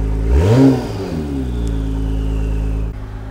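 A sports car engine in Sport Plus mode revs up hard and climbs in pitch, then settles into a loud steady drone that cuts off sharply near the end.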